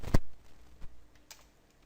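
A few faint, scattered clicks of keys on a computer keyboard, with one sharper tap at the start and lighter strokes after it, in a quiet room.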